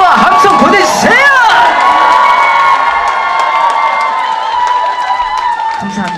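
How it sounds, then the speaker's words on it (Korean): Audience at a Buddhist temple lantern-festival concert at Deokwonsa in Ulsan cheers, whoops and claps loudly and steadily, with children shouting in a dense, close crowd roar throughout. "여러분 박수와 함성 보내주세요!"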